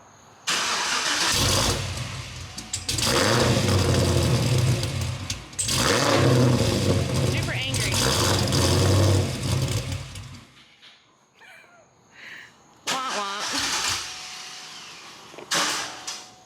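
Cadillac CTS-V fitted with a BTR Stage 3 cam starting up and revving, loud rough bursts of engine noise rising and falling in several surges, then dying away into quieter sputters and a brief final rev.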